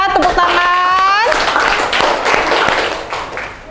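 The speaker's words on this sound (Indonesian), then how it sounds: "Tepuk tangan." A classroom of students claps for a presenting group, a burst of overlapping hand claps rising after a voice speaks at the start, fairly close and lively, tapering off toward the end.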